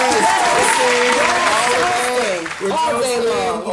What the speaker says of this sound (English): Applause in the hood